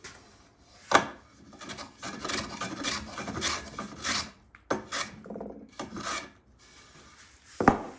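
A rasp shapes the heel of a wooden guitar neck in bursts of coarse, scraping strokes up close, broken by brief pauses and a couple of sharp knocks.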